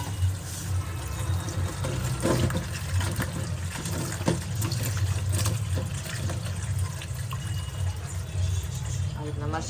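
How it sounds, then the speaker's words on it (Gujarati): Red chillies being rinsed in water for Gujarati raita marcha, with continuous splashing and sloshing of water at close range throughout, steady and moderately loud. "પેલા મરચાંને આપણે ધોઈ નાખશું, કંઈ નહીં પાણીમાં નાખીને પેલા ધોઈ નાખું મરચાં"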